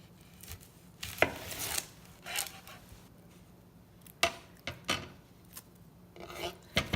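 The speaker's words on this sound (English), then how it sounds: "you're just going to make one slice through and just cut it right in half this way" A knife cutting an onion in half on a cutting board, with several sharp, irregular chopping knocks and scraping strokes, close and fairly quiet, with no talk.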